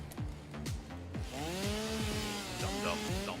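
A chainsaw revving up and down in rising and falling whines, close and loud, with the engine pitch sweeping repeatedly as the throttle is worked.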